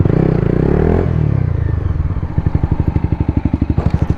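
A Honda CBR 250 motorcycle engine idles close by with a rough, steady low throb that settles into an even, rapid pulsing beat, alone with no voices.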